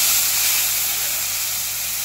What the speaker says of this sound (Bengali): পেঁয়াজ বাটা দিয়ে ভালো করে কষে নিয়ে